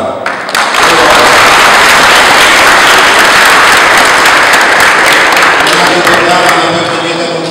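Loud, sustained audience applause in a hall during a church knowledge quiz about the Sianów sanctuary, dense clapping filling the whole stretch and tapering slightly at the end.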